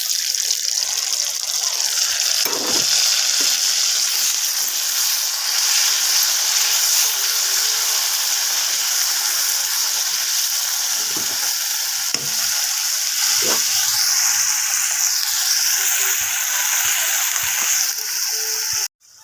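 Fish frying in hot oil gives a steady loud sizzle and crackle throughout, alone with only a few faint clatters and no talk over it.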